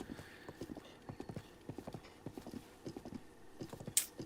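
Horse hooves clip-clop at a brisk, even trot in the Breath of the Wild video game, steady and fairly faint, with a short sharp chime near the end.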